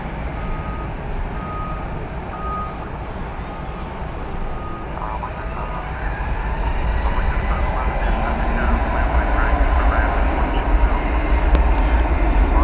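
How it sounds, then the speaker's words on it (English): A Spirit Airlines Airbus A320neo lands at DFW Airport with a loud, sustained engine roar that swells partway through, while a faint repeating beep sounds early on. "That was Spirit Flight 762 coming in from San Jose, an Airbus A320neo."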